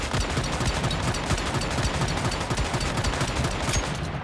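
The JAWS gun in the video game Once Human fires in a fast, continuous burst of closely spaced shots at a steady, loud level from start to finish, with no voices.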